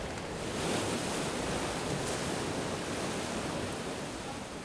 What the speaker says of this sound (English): A steep cliff and choppy waves.